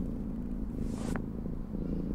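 Soft, steady purring from a cat in the Gibbous Cthulhu adventure game, low and continuous with a faint brief chirp partway through.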